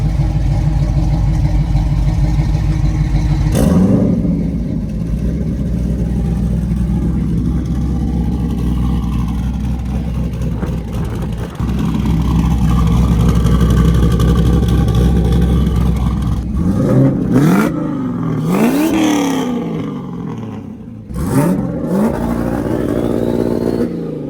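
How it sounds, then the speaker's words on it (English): An LS-swapped Mazda RX-7 with a turbo revs hard up near redline, a loud, sustained engine roar heard close up with a few sharp blips and falling revs toward the end. "He redlined it for a second and I could hear the turbo just going crazy."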